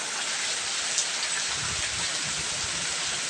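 Heavy rain pours steadily over a village in the Konkan, a dense, even hiss of drops on surfaces close by, with faint low rumbling beneath and no voices.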